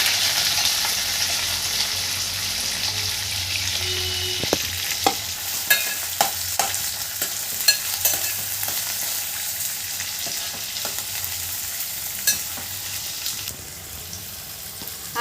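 Onions with curry leaves fry in a pan, giving a steady hiss of oil. A spatula stirs them with irregular clicks and scrapes that cluster in the middle stretch, and the sizzle runs underneath throughout without talk.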